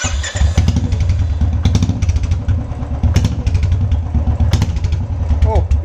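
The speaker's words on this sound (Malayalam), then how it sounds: "സൈലൻസർ ഇല്ലാണ്ടുള്ള ബുള്ളറ്റിന്റെ ഒരു സൗണ്ട്" Royal Enfield Bullet engine running with the silencer removed, a loud close thumping exhaust beat with rapid rhythmic pops and clatter throughout, revving briefly, while someone talks over it.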